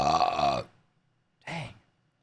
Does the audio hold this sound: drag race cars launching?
no